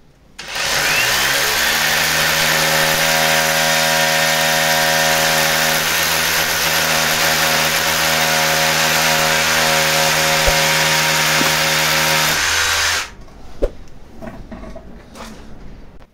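A power drill bores holes into a wall to mount a Voltronic Axpert all-in-one solar inverter, one loud steady whine held close for about twelve seconds before cutting off, followed by faint handling noises.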